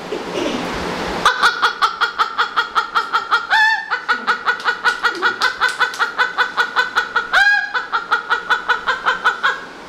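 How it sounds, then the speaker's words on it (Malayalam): A domestic hen cackles loudly just after laying an egg, a rapid, steady string of sharp clucks at close range, punctuated twice by longer rising squawks. "താൻ മുട്ടയിട്ട് കഴിഞ്ഞു എന്ന് അറിയിക്കാൻ കേൾപ്പിക്കുന്ന മറ്റൊരു ശബ്ദം."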